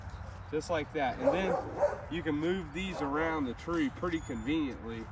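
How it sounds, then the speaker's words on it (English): Dogs bark and yip in the background outdoors, repeated short barks throughout, moderately loud under someone talking close up. "excuse the dogs in the background"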